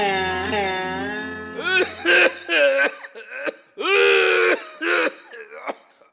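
A man coughs and clears his throat in a run of harsh, wet bursts, loud and close, after a strained groaning breath.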